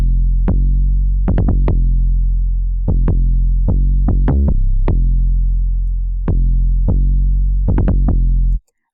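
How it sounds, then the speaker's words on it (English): Deep booming 808 bass notes from the Monotone bass synthesizer in Reason 10.4, in a loose rhythmic pattern, each hit with a punchy attack and long sustained low tail, loud and alone. "today I'm going to show you how to make 808s in the new bass synthesizer"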